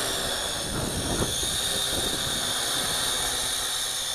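A HuaJun U-Fly W606-3 quadcopter drone hovers nearby, its motors producing a steady, high-pitched whine with a broad airy buzz that holds constant throughout, no voices.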